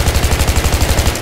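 Rapid automatic gunfire from the video game Battlefield 3 rattles out as a loud, evenly spaced burst of about a dozen close shots, with no voices.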